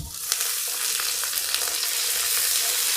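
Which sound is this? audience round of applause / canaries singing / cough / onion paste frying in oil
onion paste frying in oil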